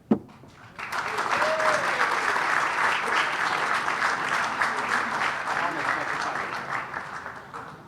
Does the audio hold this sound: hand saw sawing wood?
no